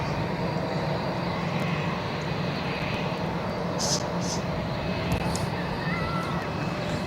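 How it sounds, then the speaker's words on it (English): A Vueling Airbus A321 departing Barcelona for Mahon gives a steady, broad engine roar from a distance, with faint bird calls over it. "This is Vueling going to Mahon. It's the A321."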